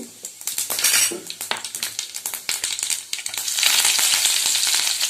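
Curry leaves, chillies and onion hit hot oil with mustard and cumin seeds for dal fry. A loud, close sizzle builds and crackles, broken by a metal spoon clattering and scraping against the pan.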